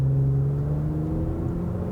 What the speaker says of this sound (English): But listen to that nice smooth V6